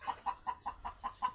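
A brooding hen clucks in a steady series of seven short, evenly spaced clucks, close and fairly quiet, with no other sounds around them.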